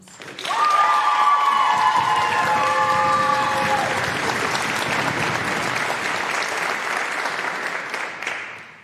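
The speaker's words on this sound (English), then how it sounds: "Could we please have another round of applause?" An audience applauds at a senior honor society induction ceremony, sustained loud clapping for several seconds with some crowd sound and a faint tonal ring early on, fading slightly toward the end.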